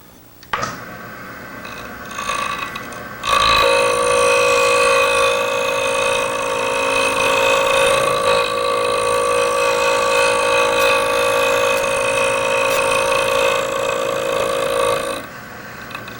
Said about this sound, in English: I'm going to speed the lathe up.